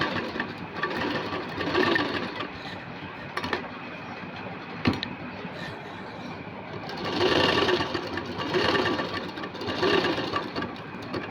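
A sewing machine stitches cloth in several short runs, its fast, close mechanical whirring rising and stopping, with brief pauses and small clicks between bursts.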